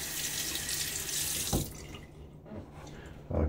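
Cold, hard tap water runs from a faucet into a bathroom sink during winter wet-shave prep, a quiet steady rush that cuts off partway, followed by a few faint clinks and drips.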